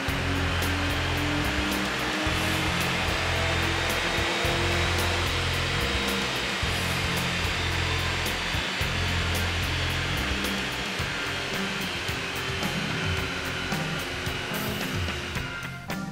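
A BMW runs hard on a Mustang all-wheel-drive dyno, giving a loud, steady wash of engine and roller roar with a rhythmic pulsing drone underneath throughout, no talk.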